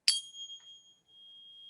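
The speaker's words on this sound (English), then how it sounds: "528 hertz frequency tuning forks right here" A 528 hertz tuning fork is struck once, giving a sharp metallic clink followed by a pure, steady high ringing tone that sustains quietly and evenly with nothing else heard.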